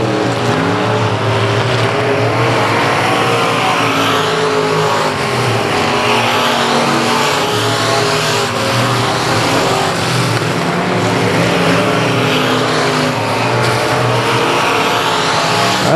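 Race cars roar past continuously on the South Texas Speedway oval, loud layered engine noise with rising and falling passes throughout, no voices.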